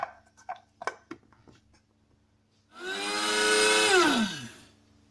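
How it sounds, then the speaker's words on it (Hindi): An electric grinder whirs loudly for about two seconds, grinding three dry ingredients for a homemade weight-loss drink into powder, its motor pitch dropping as it winds down, after a few light tapping and handling sounds. "अब हम इनको पीसेंगे और इसको बिल्कुल पाउडर की शक्ल का बनाएंगे"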